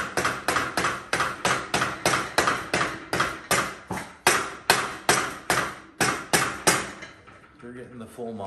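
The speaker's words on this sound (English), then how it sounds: "We hit stuff with hammers." A hammer striking something hard in about twenty loud, close blows at a steady, fairly quick rhythm, stopping near the end and leaving quieter background sound.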